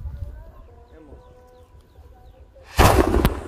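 Quiet outdoor ambience with faint chirps, then a sudden loud bang around the third second as a homemade potassium nitrate rocket explodes, followed by a sharp, noisy burst.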